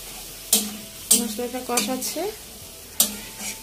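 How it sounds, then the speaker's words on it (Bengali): Spice paste (masala) being stir-fried in a pan, sharp metallic scrapes and clinks of a spatula at irregular intervals over a low sizzle, with a short tonal squeak in the middle. "দেখো রান্না বসিয়ে দিয়েছে আর মশলাটা কষাচ্ছে।"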